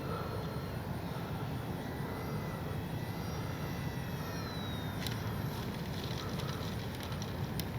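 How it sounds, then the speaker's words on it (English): An H-King Kitfox RC model airplane coming in to land with its flaps down gives a steady, broad motor drone that holds at an even level throughout, with a few faint high clicks near the end and no talking. "That's with landing flaps down. That is how you're supposed to land that plane."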